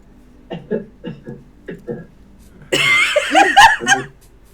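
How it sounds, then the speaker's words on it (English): Several short, breathy coughs, as from allergies, come in a quick irregular series, followed by a louder burst of coughing mixed with laughter, close and clear. "That's coughing. That's not loud. It's just coughing."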